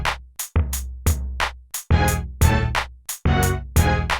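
Mario Paint composer string patch layered over a synthetic bass line, the chiptune-style video game sounds pulsing in a steady, punchy rhythm of short repeated stabs, loud and close with no voices.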